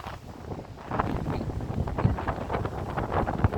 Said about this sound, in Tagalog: Ang ginaw dito. Ang ginaw. Ang lakas ng hangin.